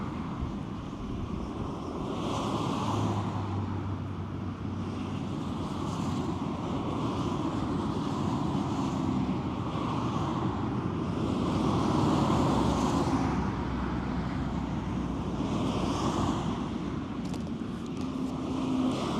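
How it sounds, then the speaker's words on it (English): Wind gusting outdoors beside a road while hitchhiking near Osnabrück, Germany, a continuous low rumbling buffet on the microphone with swelling gusts and faint passing traffic. "Wind."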